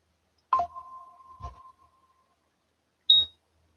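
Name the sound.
trading platform price alarm for Cisco stock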